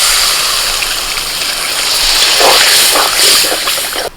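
Water pours into a cooking pan of spiced water lily stems, making a steady, loud rushing gush for about four seconds that swells slightly near the middle, with no talk over it.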